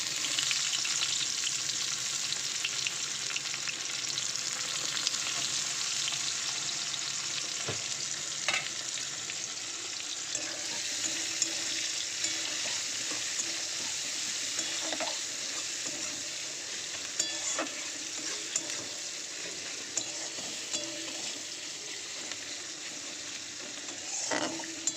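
Chopped onion with nigella seeds fries in hot oil in a kadai, a steady close sizzle with occasional stirring scrapes and small pops, no voices.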